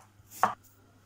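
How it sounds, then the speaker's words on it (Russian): A knife chops an onion finely on a board, a single short, close, crisp chop standing out from quiet kitchen background with a low steady hum. "Лук 300 грамм мелко нарежу."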